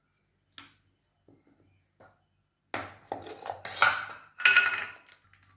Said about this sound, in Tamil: இது எல்லாத்தையும் ஒன்றா மிக்ஸ் பண்ணிடணும்.